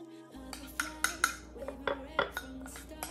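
A metal spoon clinks repeatedly against a cup while stirring milk, a quick irregular series of bright, close taps.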